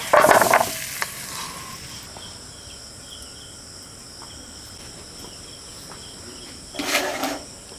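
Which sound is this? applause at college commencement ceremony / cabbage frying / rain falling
cabbage frying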